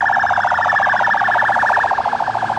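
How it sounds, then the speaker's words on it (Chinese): Ambulance carrying casualties through a street in Beirut after an airstrike, its siren wailing loud and close in a fast repeating warble that cuts off abruptly at the end. "救护车运送伤患在街头疾驶而过"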